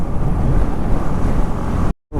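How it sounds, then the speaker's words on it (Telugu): Loud, continuous wind roaring and buffeting a microphone while riding a motorcycle on the Srinagar to Kargil road, a steady broadband rush that cuts out abruptly for a moment near the end. "గాయస్ పూర్తిగా ఇంకా గాలి అయితే కొడతా ఉంది"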